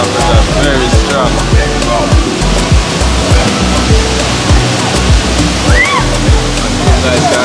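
Water blasting out at very high pressure, a loud, steady, close roar with rhythmic knocking beneath and people talking over it amid an outdoor crowd.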